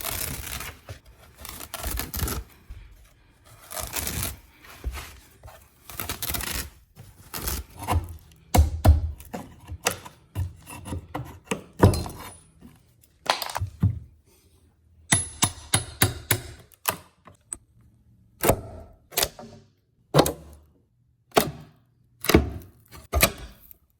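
Carpet nail strips being pried and lifted off a staircase during a renovation, heard as a long series of sharp cracking, scraping and tearing bursts, close and loud, with irregular rhythm and no talk.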